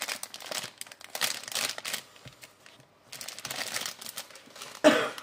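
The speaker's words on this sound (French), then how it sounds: "elle ouvre son petit sachet" A small packet is opened by hand, giving bursts of close crinkling and rustling plastic with short pauses between, ending in a sharper tearing crackle.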